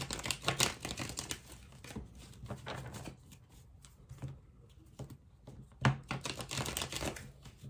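Tarot cards being cut and shuffled by hand in a quick series of soft riffles and taps, close and quiet, with no talking.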